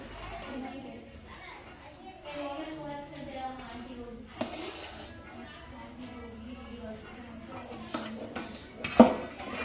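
A sweet ladoo mixture is scraped into a metal vessel in a home kitchen, with soft clinks and metallic scraping. The sounds stay faint and intermittent, with a sharper clank near the end, and children's voices chatter in the background.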